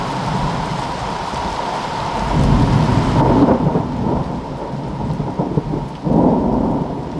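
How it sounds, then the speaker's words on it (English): Thunder rolls through a thunderstorm, a deep rumble swelling twice over a steady wash of heavy rain, loud and close with no talking. "It is a thunderstorm rain coming through right now"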